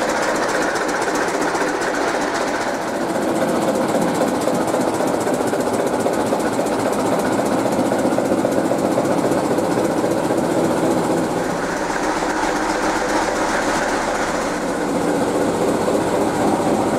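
Inside the engine room of a diesel locomotive on a heritage railway run, a steady, loud engine drone with rhythmic mechanical clatter continues throughout, close and unbroken.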